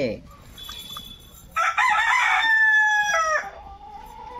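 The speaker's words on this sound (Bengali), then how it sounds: "এই মুরগিটা আমাদের ঘুম ভাঙাচ্ছে" A village chicken crows once, loud and close at dawn: a long, strained, wavering call that rises sharply and then breaks off, with quiet rural background before and after.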